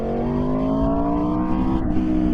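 Steady engine drone of an Aprilia RSV4 1100 Factory sport motorcycle rising in pitch as it revs higher, loud and continuous with no voices.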